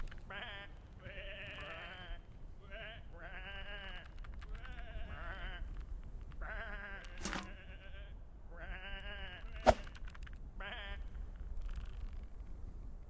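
Sheep bleat over and over in the video game Whateverland, a series of wavering calls spread across the scene, with a soft background hum and one sharp click partway through.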